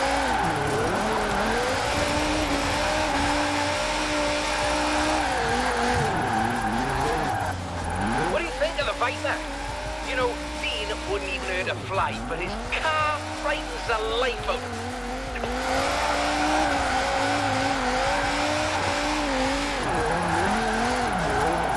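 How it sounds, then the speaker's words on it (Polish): A Dodge Viper drifting in Forza Horizon 4, its engine droning loud and steady with shifting pitch and tire squeal through long slides, revving up and down near the middle, while someone talks over it. "Ale brzydko brzmi ten Viper, co?"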